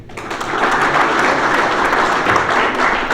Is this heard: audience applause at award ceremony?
yes